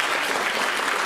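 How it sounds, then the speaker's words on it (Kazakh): Audience applause bursts through a stand-up comedy show, dense and even, a steady wash of many hands clapping with no speech on top. "Давайте Елжанға сәттілік тілеп, шапалақ қойыңыздар."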